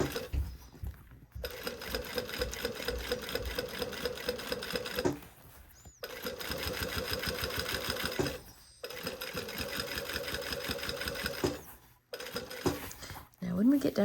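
Sewing machine running in bursts as it topstitches along a zipper seam on a garment, steady mechanical chatter broken by short pauses, with a person talking over it at times.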